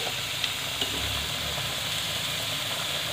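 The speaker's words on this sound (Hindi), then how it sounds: "अभी मेरी सब्जियां फ्राई हो रही हैं।" Vegetables fry in a pan for Indian-style white sauce pasta, giving a steady, even sizzling hiss throughout with a few faint pops and no talking.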